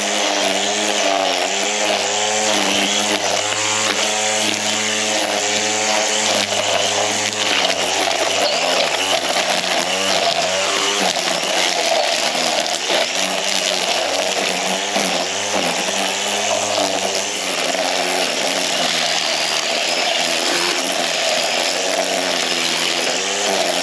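A Black & Decker cordless weed whipper runs continuously, a loud, close, steady motor whine with a buzzing edge and slight pitch wavering, alone for the whole stretch.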